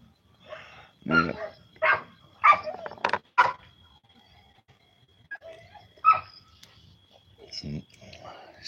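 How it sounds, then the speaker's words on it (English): Dogs bark in several loud, uneven bursts as a car pulls up, some yelps and whimpers among the barks, with gaps of quiet between them. "So when the car pulled up, the dogs, as you can hear, barking."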